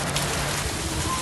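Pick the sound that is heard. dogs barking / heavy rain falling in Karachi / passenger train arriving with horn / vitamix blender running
heavy rain falling in Karachi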